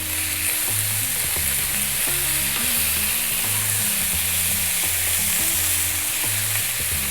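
Chunky tomato pieces fry on high heat in a pan for an Indian eggplant pepper fry, a constant loud sizzle with rhythmic scraping and tapping from steady stirring.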